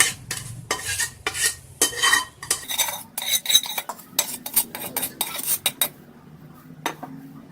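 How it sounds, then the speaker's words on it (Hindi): Marinated mutton being added to a pot while layering Hyderabadi biryani, heard as a run of close, sharp metal utensil scrapes and clanks against the pot in irregular bursts, then a brief quiet stretch with one last clank. "अब इसमें हम ये सारा मैरिनेट किया हुआ मटन डाल देंगे।"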